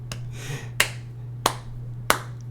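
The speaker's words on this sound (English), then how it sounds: "That's a slow clap." Four evenly spaced, crisp hand strikes ring out one by one over a low steady hum, forming a deliberate slow clap.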